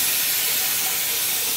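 A pressure cooker holding chickpeas vents steam in a home kitchen, a loud, continuous bright hiss heard up close for the whole moment, with no talking.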